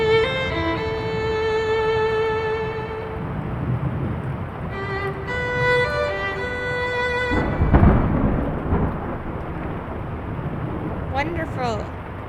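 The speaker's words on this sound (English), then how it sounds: "What about that storm?" A thunderstorm with rain in the video game The Lion's Song: steady rainfall hisses beneath sustained tonal music, and a loud, rumbling thunder crack swells near the middle before fading back into the rain.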